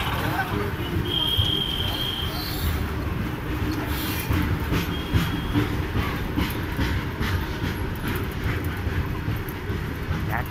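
A WAG7 electric locomotive from Valsad hauls a freight train past, with a loud, steady rumble and rhythmic clickety-clack of wagons on rail throughout, and some voices mixed in.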